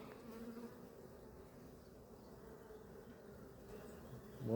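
Honeybees in a hive on a hot day, a soft, steady buzzing hum throughout, faint and close, with a brief louder rustle at the very end; no talk.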